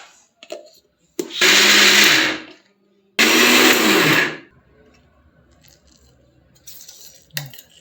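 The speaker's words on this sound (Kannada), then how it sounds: "ಪೂರ ಸಣ್ಣಗೆ ಮಿಕ್ಸಿ ಮಾಡಿಬಿಟ್ಟು ತರಿಯಾಗಿ ರುಬ್ಕೊಳ್ಳಿ" Two loud bursts of a mixer grinder, each about a second long with a short pause between, coarsely grinding chana dal for vada batter, then quiet kitchen handling.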